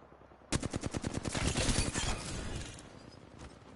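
Rapid automatic fire from the Havoc energy rifle in Apex Legends, a burst of about a dozen quick sharp shots with a crackling, glassy edge, then a trailing decay.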